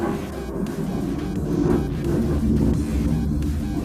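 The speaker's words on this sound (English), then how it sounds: "some random plane just came by." A low, steady rumble of an aircraft passing overhead, swelling slightly and holding broad and continuous throughout, with no voices.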